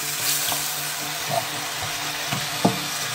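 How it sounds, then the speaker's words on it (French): Hot oil sizzling and spattering in a frying pan, a steady hiss with a few sharp pops spaced through it, close and fairly quiet. "Je reçois des éclats d'huile, c'est pas marrant"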